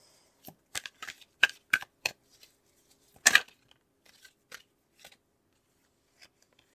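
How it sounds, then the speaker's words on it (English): Tarot cards are shuffled and pulled from a deck in a run of crisp snapping riffles and flicks, close up, then a few lighter isolated taps as single cards are drawn. "All right, so I'm going to pull some cards."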